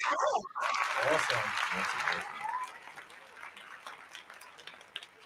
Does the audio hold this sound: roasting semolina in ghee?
no